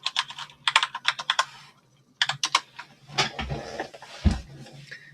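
Rapid bursts of keystrokes on a computer keyboard entering a login password for a Chromixium guest session on a virtual machine, close and crisp, with a short pause midway and a couple of heavier key thumps near the end.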